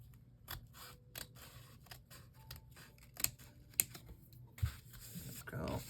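Scissors trimming paper for a craft project, with a series of crisp snips spread irregularly across the clip, fairly quiet and close, with no talking.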